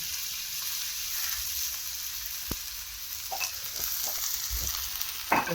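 Onions sizzle steadily in hot oil in a pan, a constant close frying hiss with a few soft clicks and stirs, no voices.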